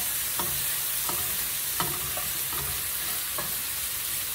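Seasoned shrimp, salted and peppered, sizzle steadily in a hot skillet, a dense even frying hiss with several soft clinks of the pan or utensil scattered through it.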